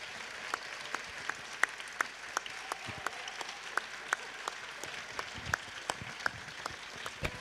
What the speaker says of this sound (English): Nuestro aplauso grande, enhorabuena.